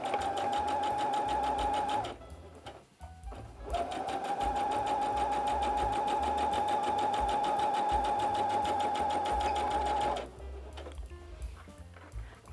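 A sewing machine runs in loud, fast bursts, stitching a fabric underwear holder with backstitching at the corners. Two long runs are split by brief pauses, and handling noise follows.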